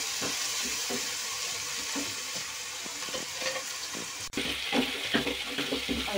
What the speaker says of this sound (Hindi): और ये हमारे प्याज भुनने लगे हैं